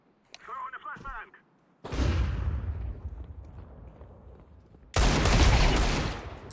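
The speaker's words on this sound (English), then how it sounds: "Throw in the flashbang." In Counter-Strike 2, a flashbang grenade is thrown and goes off as a loud, close burst with a long decaying roar, followed by a second sharp blast; a voice speaks briefly beforehand.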